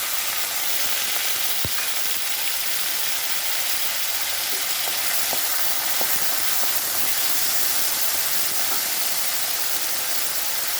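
Potatoes frying in hot oil in a pan, a dense continuous sizzle and hiss with a few sharp clicks and pops, close and unbroken.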